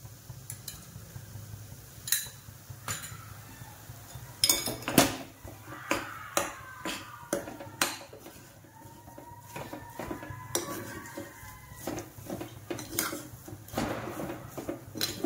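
Moong dal sheera, a sweet dish, is stirred in ghee in a pan. A spoon scrapes and clanks against the metal in a quick, irregular rhythm over a soft sizzle, with no talking.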